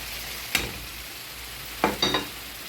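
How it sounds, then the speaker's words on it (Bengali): Fried bain fish (spiny eel) being turned in a spice paste in a pan, with three brief scraping stir strokes, one isolated and two close together, over a faint low sizzle. "এখন এই মাছটা মশলার সাথে ভালো করে কষিয়ে নেব"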